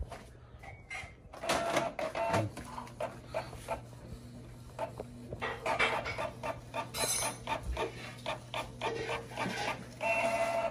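A Canon PIXMA G2010 inkjet printer runs a test page, its print head shuttling in a series of short mechanical whirs and clicks with brief pauses, close and fairly quiet, no talking over it.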